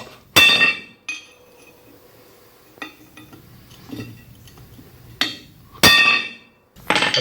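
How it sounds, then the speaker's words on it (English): A hammer drives a chisel against the rear axle bearing lock ring of a 1966 Ford Bronco, producing sharp metallic strikes: two loud ringing blows with several lighter taps between them and one more at the end, close by. "I'm just gonna take my chisel again, see if it'll pop."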